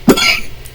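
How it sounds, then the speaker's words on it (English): One loud, close cough bursts out sharply and trails off quickly into quiet. "I don't know what's making me cough like that."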